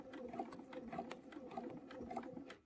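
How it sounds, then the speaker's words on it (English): Sewing machine stitching forwards along an existing stitch line on a feather arrow quilt panel, a steady rapid mechanical chatter with regular pulses, close and continuous, with no talking. "Now I'm going to sew forwards to close"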